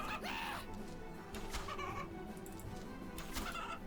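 Evil chickens in RuneScape 3 clucking and squawking in bursts over a steady game backdrop, several short calls across the clip, moderately loud.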